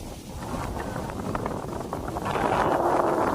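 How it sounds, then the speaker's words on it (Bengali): Wind gusting and buffeting the microphone, a broad rushing roar that swells louder toward the end. "বাতাস"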